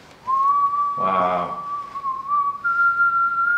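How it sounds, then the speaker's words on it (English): A person whistles a steady, clear tune on a live vegan banana bread blondie cooking show, the note sliding slightly upward. A short spoken exclamation cuts in partway through. "Why are you whistling"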